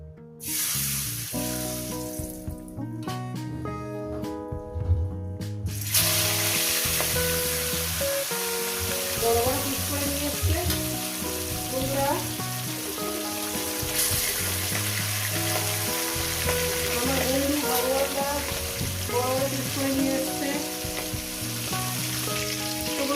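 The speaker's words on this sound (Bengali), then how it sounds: "বন্ধুরা তেল আমার গরম হয়ে গেছে এবার এখানে মাছগুলো আস্তে আস্তে দিয়ে দেবো" Fish frying in hot oil in a pan: a loud, continuous dense sizzle that starts abruptly and holds steady throughout, alongside background music and no talking.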